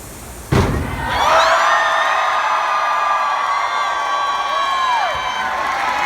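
A sharp thump is followed by a sustained live drag show audience roar of cheering and whooping in Philadelphia that holds steady for several seconds before fading slightly.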